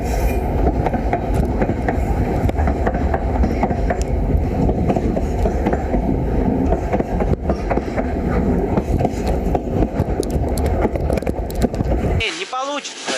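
A train rolls past close by for a long stretch, a loud continuous rumble with clattering wheels and occasional metallic squeals, cutting off abruptly near the end as voices speak briefly.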